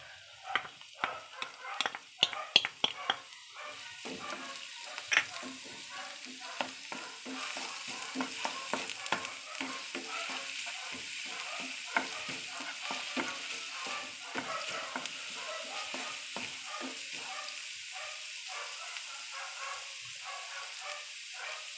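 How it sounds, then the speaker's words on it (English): Minced garlic sautéing in two to three tablespoons of cooking oil for buttered chicken, a faint continuous sizzle with frequent clicking utensil stirs, busier at first and settling into a steady hiss. "So we're going to add 2 to 3 tablespoons of cooking oil. And saute garlic."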